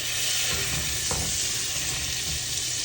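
Pork chops sizzle in hot butter in a frying pan, a steady loud crackling hiss running throughout, with a few faint clinks of handling underneath.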